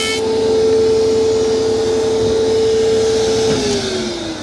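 Powermatic 60 jointer fitted with a Byrd Shelix helical cutter head, a loud steady motor whine and hum under continuous cutting noise that winds down in pitch near the end.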